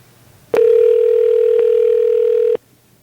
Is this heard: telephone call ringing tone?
yes